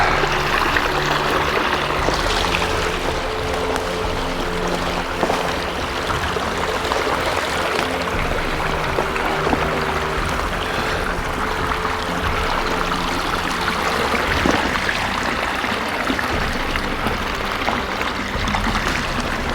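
A wilderness stream in Gifford Pinchot forest flows in a steady, broad rush of water, with small trickles and splashes mixed in, close and continuous with no voices.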